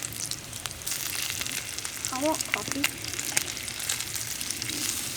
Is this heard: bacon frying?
yes